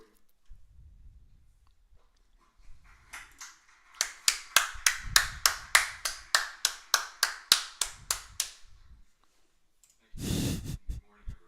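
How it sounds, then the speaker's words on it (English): Audience applause for Chair Powell at the 2022 Jackson Hole Economic Symposium, a few seconds of steady, fairly distant clapping from a crowd, bracketed by quiet murmuring. "They were clapping for him"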